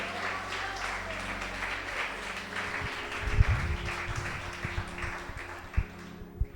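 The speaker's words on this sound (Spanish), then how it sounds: "Le damos un aplauso al Señor." A church congregation applauds during a Sunday sermon, scattered clapping under a steady hum with voices mixed in, a few louder close claps and thumps near the end.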